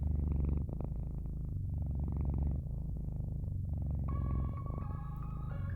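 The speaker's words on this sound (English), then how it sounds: "She purred ostentatiously." A cat purrs steadily and close up, a low continuous rumbling with rhythmic breathing pulses, alone without talk.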